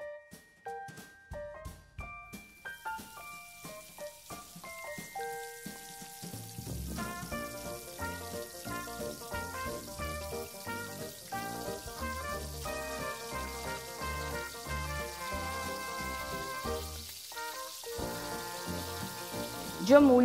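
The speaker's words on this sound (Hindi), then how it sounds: "और हम राम लड्डू फ्राई करेंगे।" Ram ladoo, soft fluffy lentil batter fritters, sizzle in hot oil, a crackling bubbling that starts sparse and quiet then thickens into a steady fry, with faint tonal background music throughout.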